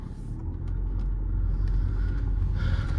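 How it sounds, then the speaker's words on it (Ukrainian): A 2012 Volkswagen Touran 1.6 with a DSG gearbox idles after starting, a low steady rumble heard from close by with a slight rise in revs toward the end. "Заводиться машина з півоберту"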